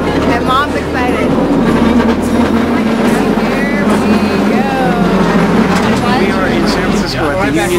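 Rumbling San Francisco cable car noise with steady clatter and squeals, busy crowd chatter and voices throughout, loud and continuous.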